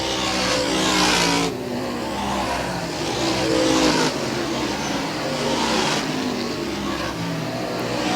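Race cars roar around a track at an auto racing event as one car spins out, a loud continuous engine din with revving surges and passing swells, possible tire squeal, and no talk.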